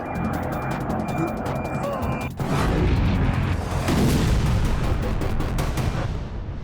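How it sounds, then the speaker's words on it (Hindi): Rumbling explosions and sharp booming bursts as Russian Pantsir and S-400 air defenses intercept missiles over Sevastopol, Crimea, with a dense roar of distant blasts and crackling fire rolling through the air. "रूस के पंचर और S-400 एयर डिफेंस सिस्टम ने मिसाइलों का शिकार किया"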